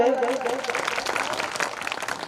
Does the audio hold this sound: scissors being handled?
no